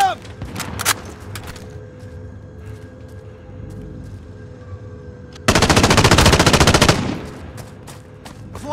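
Automatic weapon fire in Call of Duty: Warzone, a few sharp shots at the start, then a loud sustained machine-gun burst lasting over a second before fading into quieter game ambience.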